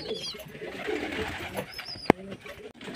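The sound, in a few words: pigeons cooing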